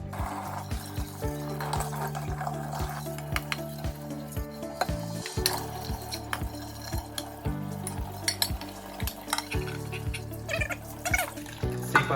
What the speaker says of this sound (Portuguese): a gente vai lá lavar elas para ver como elas ficaram